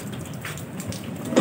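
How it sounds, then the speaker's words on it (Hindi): Heavy rain pours steadily as a dense, continuous hiss, loud and close with no talking, swelling slightly toward the end. "बारिश हो गई है तेज़ फिर से"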